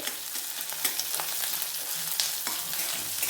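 Potatoes fry in hot oil with onions and ginger garlic paste, a steady close crackling sizzle with scattered sharp pops and a stirring scrape, no voices.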